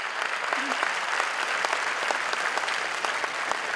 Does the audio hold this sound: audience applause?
yes